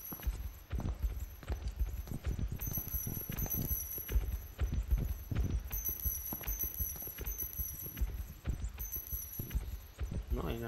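A pig creature in the DreadOut horror game moves around, its hooves clopping in an uneven, repeated rhythm, with people talking over it.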